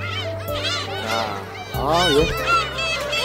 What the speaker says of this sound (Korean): 이렇게 아주 갈매기들이 장관을 이루고 있네요